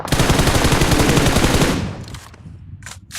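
Rapid, dense automatic gunfire from the PUBG Mobile battle royale shooter, loud and close for about two seconds before cutting off, followed by a few fainter scattered bursts.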